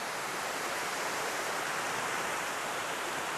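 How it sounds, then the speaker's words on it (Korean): Steady, full-bodied rush of a waterfall on a river upstream in Zion Canyon, a constant broadband roar with no pauses or voices, moderately loud and even throughout. "이제 상류 쪽으로 오니까 저렇게 아주 멋진 폭포도 보이고"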